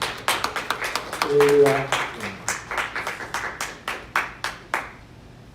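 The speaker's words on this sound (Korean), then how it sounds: "축복의 박수 한번 해주겠습니다." A congregation at a Sunday church service gives a round of blessing applause, sharp irregular hand claps that start dense and thin out into sparse, separate claps, with a brief spoken exclamation early on.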